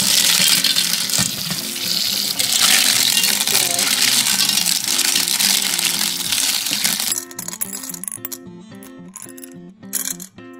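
Tap water pours loudly over plastic cat water fountain parts in a sink, a strong hissing splash for most of the clip, then stops, leaving clinks and clattering of parts being handled.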